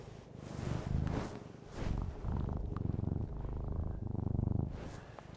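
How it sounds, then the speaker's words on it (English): A cat purrs steadily up close, a low rumbling vibration that swells and fades with each breath, continuing without pause. "Can you hear him purring?"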